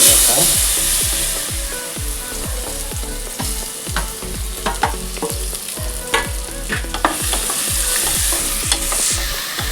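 Three finely chopped bananas sizzle loudly in a hot pan, with a rapid, regular scraping rhythm of stirring throughout and steady frying hiss underneath.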